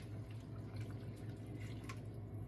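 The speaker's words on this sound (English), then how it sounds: "I'm going to fill it up with water and pour that 1 can of water in there" A tomato can full of water is poured into a pot of hamburger soup, making a steady, low, continuous watery pour with no talking.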